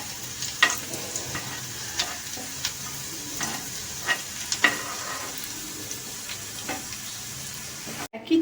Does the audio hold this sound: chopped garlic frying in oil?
yes